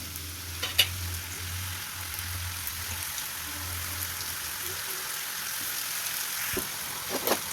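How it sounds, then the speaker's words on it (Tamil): Leftover samosa dough scraps from a chicken and potato samosa batch deep-fry in hot oil, giving a steady, soft sizzle and crackle throughout, with a few faint clinks of stirring and no one talking. "இப்போ நம்ம கட் பண்ணும்போது இருந்த மீதி வேஸ்ட்டையும் இதிலே போட்டு பொறிச்சு எடுத்துப்போம்"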